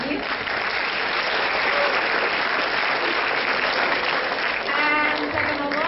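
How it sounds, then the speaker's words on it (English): Sustained, dense applause from an audience at a university public lecture for the Dean, heard at close range, with a voice starting to speak over it near the end. "And that we can applause for our Dean."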